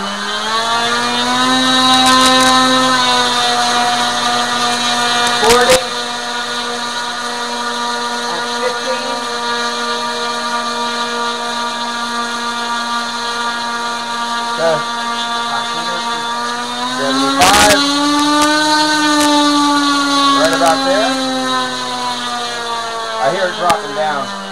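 Electric motor and propeller of a model MQ-9 Reaper drone on a power test at three-quarter throttle, a loud steady tonal whine that rises slightly in pitch midway, with voices talking over it.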